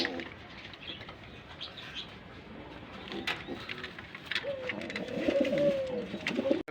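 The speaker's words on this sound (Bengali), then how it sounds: "দেখেন হলুদ মুখী কবুতর আছে" Pigeons at a pigeon market coo and rustle at close range, with soft chirps and wing flaps over a busy background that grows louder toward the end.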